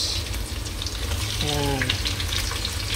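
Onion fries in a pan with a loud, continuous sizzle and hiss close by, and a brief tonal squeak or clink sounds midway, with no talk.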